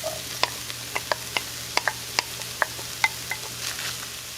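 Frozen vegetables stirred in a frying pan with a utensil: a quiet soft sizzle under a run of sharp, irregular scraping clicks, close by, with no talk.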